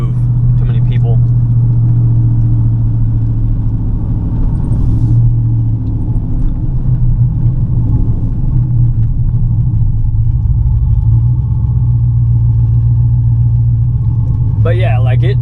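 A GMC truck fitted with an aftermarket cam idles steadily and loud at close range, a deep rumbling drone with a slightly lopey pulse running throughout, with brief higher noises near the start and end.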